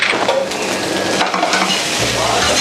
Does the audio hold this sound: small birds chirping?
no